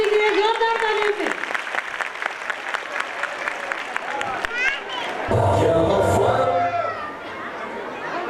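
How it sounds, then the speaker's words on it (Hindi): Crowd applause welcoming first-year students at an Urdu school's annual gathering, steady clapping mixed with chatter and a voice at the start, then swelling louder and denser near the end. "तलबा से प्लीज तालियां बजाइए और उनके इस्तकबाल के लिए जोरदार तालियों से।"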